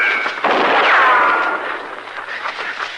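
A gunshot in a 1958 Gunsmoke Western radio drama, a loud close blast followed by a long ringing whine and rumbling decay.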